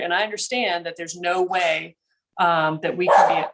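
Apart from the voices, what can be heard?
dog barking in the background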